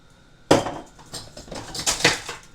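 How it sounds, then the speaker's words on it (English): A whisk stirs flour, cornstarch and a pinch of salt in a bowl. A sharp first clatter leads into quick, close scraping and tapping against the bowl's sides. "going to give that a whisk, kind of mix it up and send up a cloud of powder."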